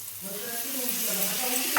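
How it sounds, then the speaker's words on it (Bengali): Steady frying sizzle of chopped tomato in a pan of spiced brinjal masala, a soft continuous crackle with faint harmonic hum underneath and a brief clatter at the very end. "এতে দিয়ে দেবো আমি টমেটো কুচিটা"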